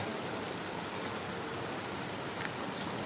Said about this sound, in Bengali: ভালো হারে মুসল হারে বৃষ্টি হচ্ছে